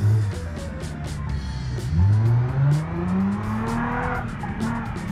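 A 3.5-litre V6 car engine in the driving game BeamNG accelerates through the gears, its pitch climbing steadily with each shift, loud and close, with faint clicking under it.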